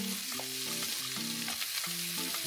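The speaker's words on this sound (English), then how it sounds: "What I do here is put the spam down first." Spam sizzling steadily in a frying pan, with a constant loud crackle throughout, over a background of music-like tonal sound.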